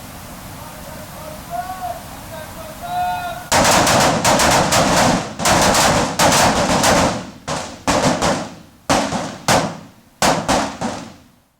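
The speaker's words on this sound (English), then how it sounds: "They'll engage that target with 2 rounds, then switch to the other target, engage it with 2 rounds" Rifle shots at targets on an Air Force qualification course, a string of sharp cracks fired mostly in quick pairs with short gaps, loud and close outdoors, after a brief faint tone.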